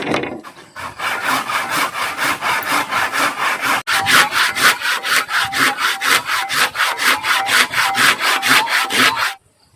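A handsaw cuts through wood in steady rapid back-and-forth strokes, close and loud, pausing briefly midway before carrying on and then stopping abruptly.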